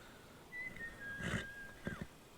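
A thin, steady whistled tone holds for over a second, then rises briefly, with a short burst of noise in the middle and another near the end.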